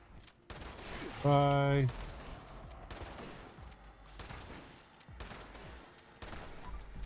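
Gunfire in the video game Fallout 76 comes as a series of sharp shot bursts spread through the clip, mixed with game effects, a short tonal beep and brief speech.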